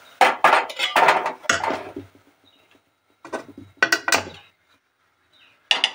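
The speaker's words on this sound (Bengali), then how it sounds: "তো গ্যাসে আমি কড়া বসিয়ে দিলাম" A metal kadai is set down on a gas stove, with a cluster of clanks and scrapes followed by a few sharper knocks, near and fairly loud, with quiet gaps between them and no talking.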